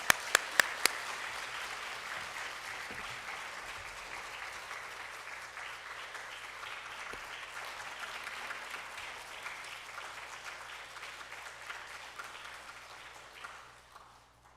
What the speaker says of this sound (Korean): 우리 장로님 격려하는 의미로 여러분 큰 박수 한번 부탁드립니다.